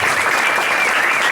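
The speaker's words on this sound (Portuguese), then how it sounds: "Vamos aplaudir essa turma." A church congregation applauds the band during a worship service, with steady, dense clapping that fills the whole short moment and no talking over it.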